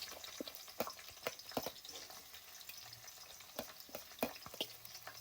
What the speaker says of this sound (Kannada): ಇವಾಗ ಈರುಳ್ಳಿ ಫ್ರೈಯಿಂಗ್.